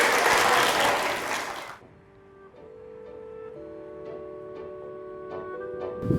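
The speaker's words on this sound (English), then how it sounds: "let's give a big round of applause for Chocolate and for Russell School" Audience clapping after a school group's song at Russell School, a loud burst of applause that cuts off after under two seconds, followed by quiet ticking and faint tonal hum.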